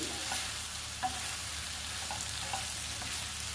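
Gongura leaves and coriander chutney ingredients frying in a pan, a steady soft sizzle with a few light scrapes and knocks of stirring, close and fairly quiet, with no talking.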